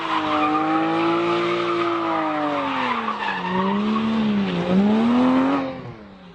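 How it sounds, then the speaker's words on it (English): Tires of a 2014 Porsche 911 GT3 squeal as it oversteers, a loud sustained screech that wavers and bends in pitch for several seconds before cutting off abruptly. "it also allows you to induce oversteer by engaging the drive wheel suddenly"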